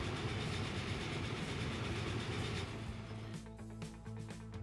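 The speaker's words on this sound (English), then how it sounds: "The locomotive is probably overkill as well" A locomotive runs along the track in Transport Fever 2, a steady rumbling rail noise that gives way to rhythmic clicking and wheel clatter, moderately loud with no talking.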